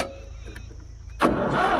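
A tractor engine turns over and catches partway through, rising abruptly from a quiet low hum into a loud, steady running roar, close by and without speech.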